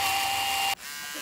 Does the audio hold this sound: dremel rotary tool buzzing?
yes